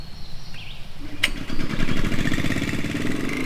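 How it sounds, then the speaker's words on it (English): A Landworks 7 HP mini wood chipper engine starts up and settles into a steady, throbbing mid-pitched running drone that grows louder after a sharp click, close by and alone. "With a powerful 7-horsepower engine"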